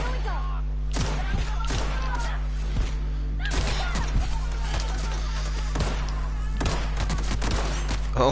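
Rapid gunfire in The Outer Worlds, a string of sharp shots cracking out in irregular bursts, roughly a dozen over the span, loud and close above a steady low game hum.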